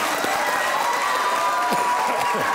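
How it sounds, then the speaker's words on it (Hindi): Applause rings out from a studio audience on a Pakistani comedy talk show, a steady dense clapping that fills the whole moment, with some crowd noise mixed in. "वाह, तालियां होनी चाहिए भाई राबिया के लिए।"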